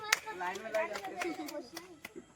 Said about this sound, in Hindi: तो प्रियांशु थोड़ा सा ताली मार दीजिए।